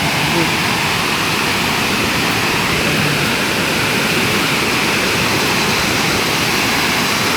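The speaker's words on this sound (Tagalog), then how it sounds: "Welcome to Tagbilat Falls." Tagbilat Falls pours in a loud, unbroken roar of rushing water from close by, a steady wash of noise.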